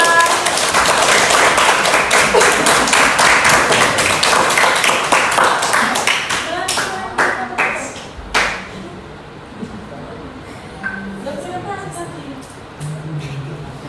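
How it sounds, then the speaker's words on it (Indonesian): A classroom group applauds students stepping forward to present, with brisk, dense clapping that gradually thins into scattered claps and dies away, leaving a quiet room with a few faint sounds. "Tepuk tangan untuk mereka."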